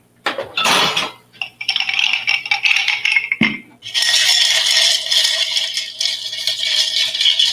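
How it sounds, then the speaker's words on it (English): A large ice cube dropped into a glass for an old-fashioned, a sharp clink followed by rattling, scraping and clattering of ice against glass, loud and close with no voices. "So nice big ice cube."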